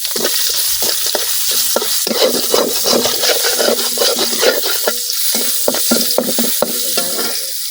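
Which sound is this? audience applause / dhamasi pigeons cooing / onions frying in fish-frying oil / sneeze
onions frying in fish-frying oil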